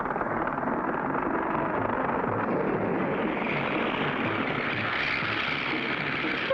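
A propeller airplane's engine drones in an old animated cartoon, a steady, dense roar that holds at an even level throughout with no talking.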